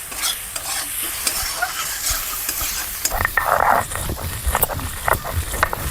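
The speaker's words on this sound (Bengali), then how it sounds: "এখন ভালো করে নেড়ে চেড়ে নেব, মশলাটাকে ভালো করে কষিয়ে নেব।" Spices with salt and turmeric being stirred and fried in a pan for a village-style paneer curry: a steady, close sizzle with scraping stirs and small clinks throughout, and no talking.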